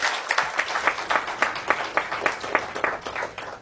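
Audience applause at an empowerment summit: a room of people clapping in steady, fairly loud rhythmic bursts, claps distinct and evenly spaced throughout, with no talk over it.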